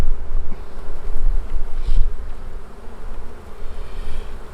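Honeybees buzzing around an open beehive during queen-cell harvesting, a dense, continuous drone close to the microphone with some wind rumble and no talk.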